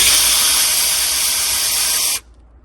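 A cordless drill runs steadily to back out screws from the wire brackets on a PV array disconnect switch, a loud continuous whir that cuts off abruptly near the end.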